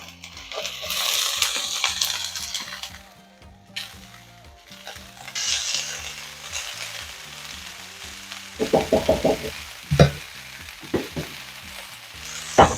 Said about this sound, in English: So now it's time to go ahead and add in our shredded cabbage, also known as coleslaw.